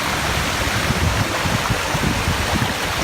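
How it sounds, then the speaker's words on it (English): A small waterfall spills over a rocky edge, giving a constant close rush of water that stays even and full throughout, with no voices. "And then there's even a taller, small waterfall here."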